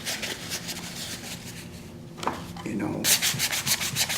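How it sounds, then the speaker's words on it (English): Hand sanding a piece of ivory with a tape-wrapped catalog: close, steady rasping strokes that pause briefly near the middle, then resume louder and more vigorously. "For hand sanding, this was just a catalog or something that I wrapped tape over"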